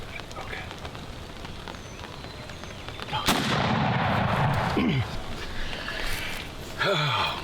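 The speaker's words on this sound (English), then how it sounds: "a muzzleloading shotgun in Indiana opening morning" Muzzleloading shotgun fired on an opening-morning turkey hunt in Indiana, one sharp close blast followed by a rumbling roll, set in quiet outdoor ambience with soft rain-like patter and brief voices afterward.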